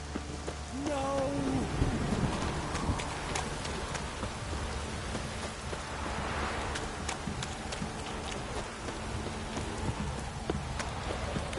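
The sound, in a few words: rain in a video game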